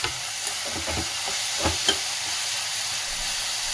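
Fenugreek leaves and two tomatoes sizzle in a hot pan for mente bath, a steady frying hiss with a few close scrapes and knocks of stirring, and no talking.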